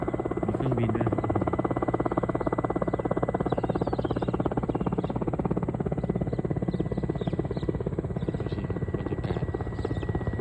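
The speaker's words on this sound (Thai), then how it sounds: "มีเครื่องบินด้วยนะครับ" A steady, loud helicopter-like rotor drone fills the whole stretch over a rural Thai farm morning in Mae Ai in the north, with brief faint talk.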